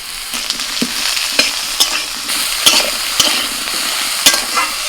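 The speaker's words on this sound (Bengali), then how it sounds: "আলু আর কুমড়ো ভাজা হয়ে গেছে এবার দিচ্ছি বেগুন" Eggplant tossed in with frying potato and pumpkin crackles in hot oil while a spatula stirs, scraping in regular strokes about once a second over a steady close sizzle, without any talking.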